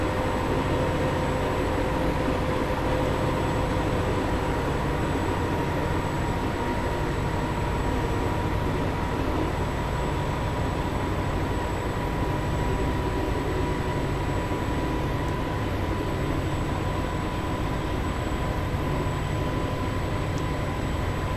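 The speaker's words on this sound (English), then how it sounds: "I'm going to idle for power at this point and allow the train to coast" Valenta-engined HST train in Train Simulator 2017 running between Paignton and Exeter, a continuous steady rumble of engine and rolling wheels with a faint high whine, constant and unbroken throughout, no speech.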